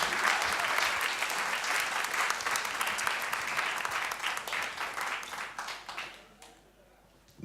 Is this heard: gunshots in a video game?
no